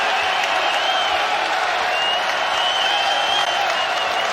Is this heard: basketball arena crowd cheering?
yes